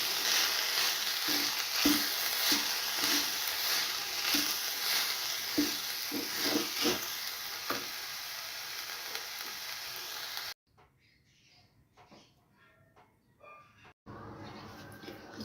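Onions sizzling loudly in hot oil for a kachori stuffing, with green chilies tossed in and stirred, a steady crackle with scraping strokes that cuts off abruptly near the end, leaving quiet clinks before the sizzle briefly returns.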